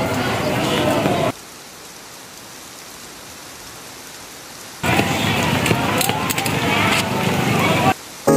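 Steady rain pours down with a dense, even hiss that cuts out abruptly after the first second, then returns just as heavy for the last few seconds.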